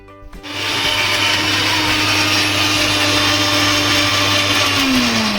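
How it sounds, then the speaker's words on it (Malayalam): A mixer grinder starts with a short rattle, then whirs loud and constant as it blends ginger and garlic into paste, its motor pitch sliding slightly lower near the end; no speech. "ഞാൻ ഓൾറെഡി നന്നാക്കി വെച്ച ജിഞ്ചറും ഗാർലിക്കും കൂടി ഇട്ടിട്ട് ഒരു അടി അടിക്കുക"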